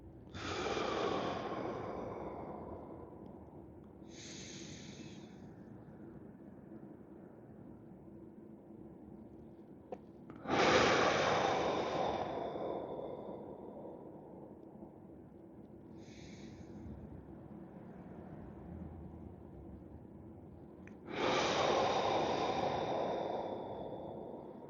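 Slow deep breaths drawn in through the nose during a yin yoga session, three long hissing inhales about ten seconds apart with softer exhales between, close and unhurried, no talk.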